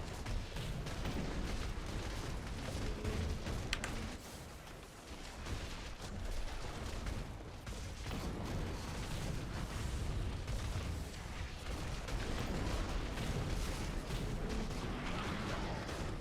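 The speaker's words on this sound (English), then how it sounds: "I think that was a Nagel Ring explosion that went off in the middle of that." A Nagel Ring explosion during Diablo 3 Reaper of Souls gameplay is buried in dense, continuous combat noise, with booming blasts and crackling impacts layered throughout, faint overall.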